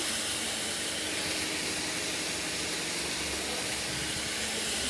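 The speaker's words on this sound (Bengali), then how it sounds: "আর কেটে রাখা তরকারিটা এর মধ্যে দিয়ে দিচ্ছি" Cut vegetables hit a hot pan and sizzle, making a steady, loud, hissing fry that carries on without a break.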